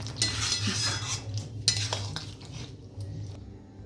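A spoon scrapes and clinks against a pan while dudh paneer is stirred, with brisk metallic strokes over a low hum, fading toward the end.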